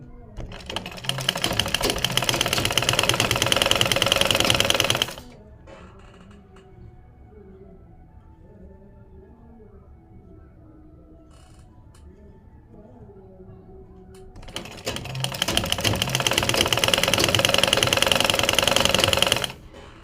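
A sewing machine stitches a design into a kameez neckline, whirring loudly and rapidly for several seconds, stopping for a quiet stretch, then running again at the same steady pace.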